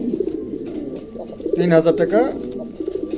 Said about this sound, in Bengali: কবুতরের কোয়ালিটি মাশাআল্লাহ, দেখার মতো কবুতর আছে